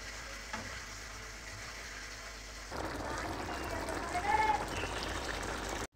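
Chicken simmers in coconut milk with papaya and a splash of vinegar, giving a soft, steady bubbling hiss that grows a little livelier partway through, quiet and close.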